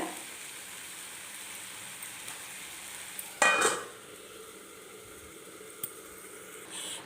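Pepper mutton curry sizzles in a pan, a soft steady fry broken by a sharp burst of stirring and scraping, then a quieter sizzle with a single click near the end.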